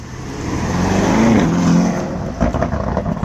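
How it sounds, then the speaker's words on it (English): Lamborghini Urus SUV revving loudly nearby, its engine swelling to a sustained roar before the exhaust snaps out a few sharp cracks and pops as it drops off. "there's some cracking and popping in that SUV"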